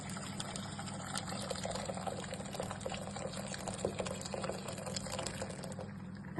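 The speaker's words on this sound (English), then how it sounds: "add in the boiling water for the spaghetti into the pan" Boiling water is poured from a kettle into a pan for cooking spaghetti, a continuous splashing, gurgling stream that runs steadily for several seconds, fairly close, with no talking.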